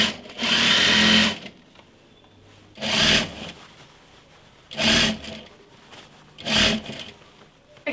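A sewing machine stitches a gathered bubble skirt in four loud, close bursts of rapid whirring, with short quiet pauses between runs.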